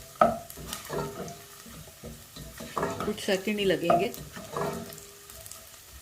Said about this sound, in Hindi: अभी ये जो हमारी किशमिश रह गई थी वो भी मैं डाल दूंगी